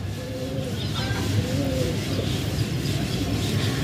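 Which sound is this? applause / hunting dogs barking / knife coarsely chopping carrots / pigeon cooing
pigeon cooing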